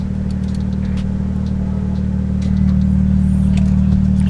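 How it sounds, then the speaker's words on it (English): A BMW M2 with an M Performance exhaust idles in a steady low drone, and partway through the exhaust valves open by remote and the rumble grows noticeably louder, with no talk. "You hear a little beep, and then the exhaust is open."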